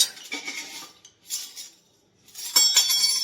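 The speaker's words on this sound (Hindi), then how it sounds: "ये चम्मच का स्टैंड देख सकते हो आप, ये चम्मच देखो कैसे कैसे निकल रहे हैं" Metal spoons slip out of a spoon stand and fall, giving a few close, bright clinking and rattling clatters spaced by short quiet gaps, with no talk.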